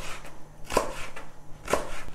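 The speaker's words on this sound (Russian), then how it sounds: "Берем болгарский перец и нарезаем его на полосочки." A knife chops bell pepper into strips on a cutting board, giving two crisp separate cuts about a second apart in a quiet kitchen.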